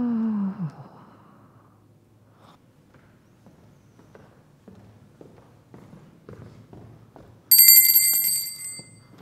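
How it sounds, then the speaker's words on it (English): A bell rings as a sound effect in a children's story: after quiet shuffling footsteps, a bright bicycle-style bell trills loudly for about two seconds near the end. "there was another ringing of the bell"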